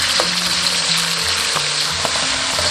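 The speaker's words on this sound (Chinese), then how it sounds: "加入1勺红油豆瓣酱炒出红油" Chili bean paste fries in a little oil with ginger slices in a wok, giving a steady close sizzle broken by a few spatula scrapes and taps.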